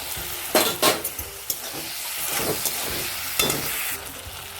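Titaphul mixture is stirred in a frying pan after a rice flour slurry is added, with a few sharp utensil knocks against the pan over a soft continuous sizzle and no talking.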